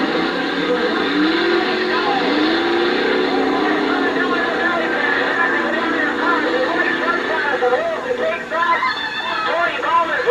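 Drag racing cars roar on an ice track at the 1982 Merrill Ice Drags championship, engines droning steadily and loudly throughout under a crowd's babble and announcer talk.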